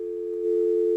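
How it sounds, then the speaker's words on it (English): A telephone dial tone being tested after phone line wiring: a steady, continuous hum held at one pitch, loud and alone, swelling slightly halfway through with no voices. "Can you just test the dial tone?"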